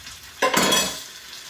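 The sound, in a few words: stirring lentil curry with a spoon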